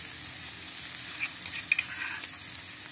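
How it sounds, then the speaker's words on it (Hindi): Green pea paste cooks with fried spice masala in a pan for matar sabzi, a close steady sizzle with scraping and clicks of a spoon stirring. "और इसे भी मसाले के साथ पका लेंगे 2 मिनट के लिए"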